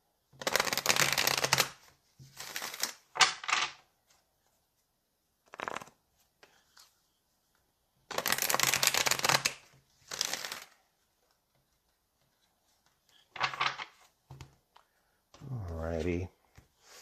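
Tarot cards shuffled up close in several quick, crisp bursts of riffling, separated by short silences, with a final softer flutter at the end.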